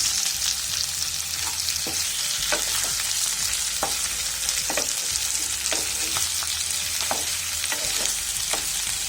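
Boiled, cut potatoes sizzle in hot oil in a pan for potato pepper fry, a steady close frying crackle broken by repeated clinks and scrapes of stirring, with no talk.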